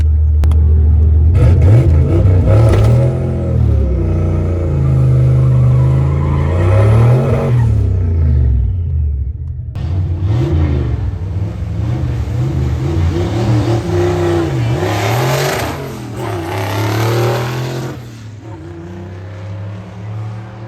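Turbocharged Foxbody Mustang on 10.5 psi of boost, with a 3-port MAC valve and Terminator X, accelerates down a drag strip. Loud, close engine roar climbs through gears, with a clear shift break midway before revving hard again.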